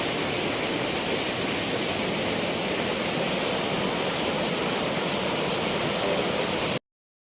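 Steady rushing water from Mae Klang waterfall fills the air as a dense, even roar, with three faint high chirps scattered over it.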